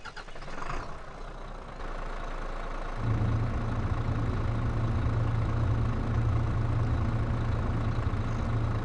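A garbage truck engine in a video game starts and settles into a loud, steady low drone with a constant hum.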